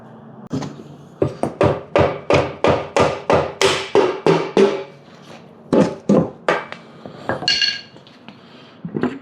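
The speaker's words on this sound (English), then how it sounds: "this should now just tap up and off that casing" A Toyota MR2 gearbox casing being tapped loose with a hammer during a transmission job; a rapid series of about fifteen sharp metallic knocks in an even rhythm, a short pause, then several more taps, loud and close with no talking.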